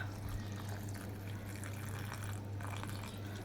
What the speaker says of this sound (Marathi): थोडं पाणी घालते मी आता.